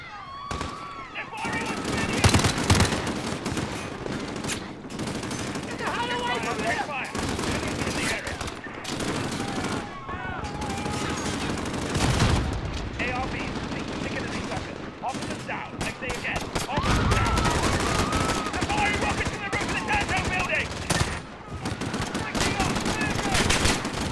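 Sustained Uzi fire in the Call of Duty Modern Warfare campaign, with dense rapid bursts and overlapping shots running almost without a break amid loud game noise and voices.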